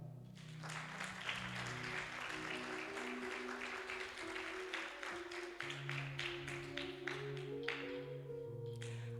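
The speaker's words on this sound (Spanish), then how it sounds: "Denle un aplauso al Señor." A church congregation claps together in sustained applause during a Spanish-language sermon, dense and steady throughout, with sustained music tones running underneath.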